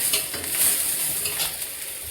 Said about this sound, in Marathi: मी बनवतोय वाटाणा शेंग फ्राय